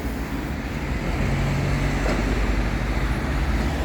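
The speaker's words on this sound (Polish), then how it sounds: "Autobusik na prąd." An electric city bus moves through Gdynia traffic, heard as a steady, fairly loud roadway rumble that continues without a break for the whole stretch.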